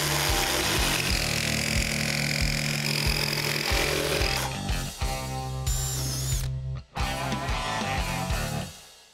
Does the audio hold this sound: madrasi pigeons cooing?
no